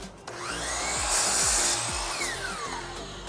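A power saw cuts a wood piece for a guitar neck, a continuous close whine and rasp with a pitch that sweeps slightly as the blade works through the wood.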